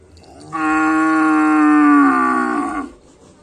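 A racing bull of the karapan sapi tradition gives one long, loud, close moo lasting over two seconds, rich and droning, with no talk over it.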